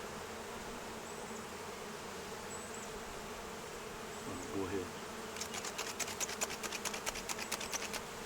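Honey bees drone in a steady, dense buzz around a hive, with a faster fluttering hum rising in the second half and a brief spoken phrase partway through.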